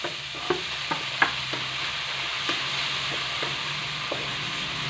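Onion and then tomato sautéing in a pan for a ginisang ampalaya with egg, a steady low sizzle with occasional sharp clicks and scrapes of stirring, no talking.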